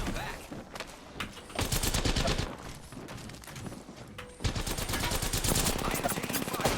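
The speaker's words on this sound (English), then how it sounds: "I am taking fire" Rapid automatic gunfire in a first-person shooter video game crackles in dense repeated bursts, with two sustained loud volleys separated by a quieter stretch, close and intense.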